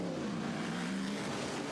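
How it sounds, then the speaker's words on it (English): A Corvette endurance race car at the 2006 American Le Mans Series round in Portland fires up in the pit lane, its engine settling into a loud, steady, close-up rumble with a strong low drone and no voices. "The Corvette fires up now"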